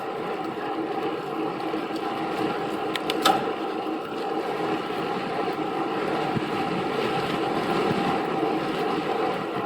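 Steady roaring wind rushes over the microphone while road cycling into a headwind, a continuous broadband buffeting with no voices.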